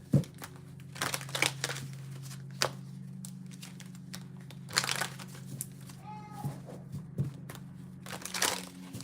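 Crinkly, papery rustles and soft slaps from shuffling an oversized tarot card deck, coming in uneven bursts over a low background hum, with a voice briefly heard partway through.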